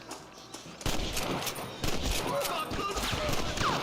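Video game gunfire, with a few sharp gunshot bursts cracking out loud and close, separated by short gaps, while a voice talks over the action.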